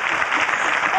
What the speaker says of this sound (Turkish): Alkış gelebilir bu arada.